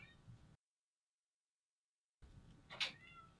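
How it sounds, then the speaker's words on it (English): A short cat meow sounds after a stretch of silence, close by and moderately loud. "Now my cat, Elro, as you can hear, possibly, he would be a lot more engaging"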